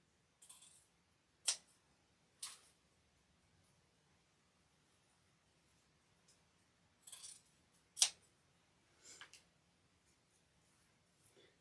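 Sharp Deco scissors cutting dovetails into paper for a spring frog wreath, heard as a few crisp snips spaced apart over a faint, steady background hum.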